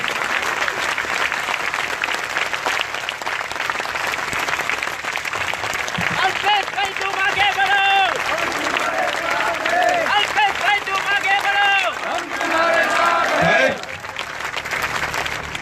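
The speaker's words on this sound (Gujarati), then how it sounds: "બે હાથ ઊંચા ફરતી ખખડી તાળીઓ પાડો" A crowd at a political rally in Kotarwada village, Banaskantha, claps loudly and continuously with both hands raised. A voice rises over the applause partway through, and the clapping dips near the end.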